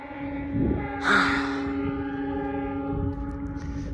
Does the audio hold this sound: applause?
no